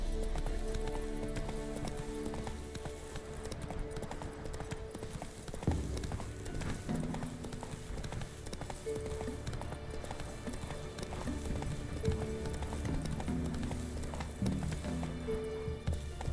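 A horse gallops in The Witcher 3: Wild Hunt, a steady run of rhythmic hoofbeats under continuous game music and ambience, with some brief voice-like sounds in the mix.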